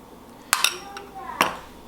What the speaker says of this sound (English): just mixing some homemade avocado oil mayo and some of this kimchi sriracha